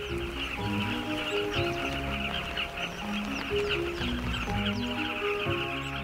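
Dense chorus of many carmine bee-eaters calling at once in a nesting colony of thousands on the Luangwa River banks, a constant chattering wash with overlapping bursts, heard from moderately close.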